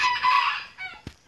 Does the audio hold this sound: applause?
no